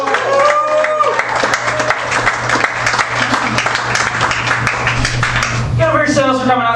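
A comedy club audience at Dead Crow Comedy claps and cheers loudly and steadily for comedian Dwayne Duke, the dense applause running throughout while a host's voice speaks over it at the start and end.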